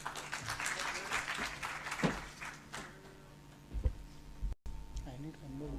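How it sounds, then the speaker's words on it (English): An audience at a medical seminar gives a round of applause for a presenting doctor, a moderate stretch of clapping that fades over a few seconds before a microphone clunk and quiet room tone. "May I have a round of applause for him?"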